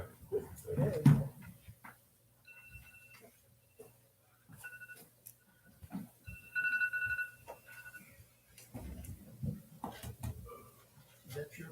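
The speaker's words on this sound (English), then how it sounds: "Is that your phone, right?" A phone rings during a small-town council meeting in Girard, Kansas, with short repeated electronic ring tones at moderate distance, surrounded by shuffling, rustling and bits of room noise.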